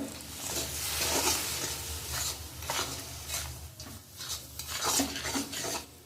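Semolina being stirred in a pan while making jhal suji, with spatula scrapes and knocks against the metal over a faint sizzle, repeated in uneven strokes, close by.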